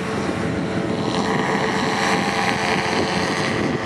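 A paramotor engine and propeller drone steadily and loudly through a paraglider takeoff, a continuous broadband roar with wind buffeting the microphone and no voices.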